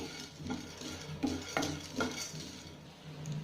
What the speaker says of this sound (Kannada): ನಾನು ಇದನ್ನು ಕೂಡ ಸಣ್ಣ ಉರಿಯಲ್ಲಿ ಸ್ವಲ್ಪ ಕೆಂಪಾಗೋ ಹಾಗೆ ಹುರ್ಕೋತೀನಿ